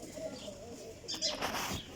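Flying pigeons of a high-quality racing set coo softly at a moderate distance, with low murmuring calls and a brief rustling burst partway through.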